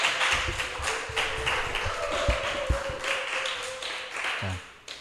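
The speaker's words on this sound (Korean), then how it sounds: "우리 담임 목사님 나오실 때 힘찬 박수와 함성으로 모시겠습니다" A church youth-service congregation applauds to welcome the senior pastor onto the stage, with steady clapping and a few heavier thumps carrying through at moderate loudness and no voices on top.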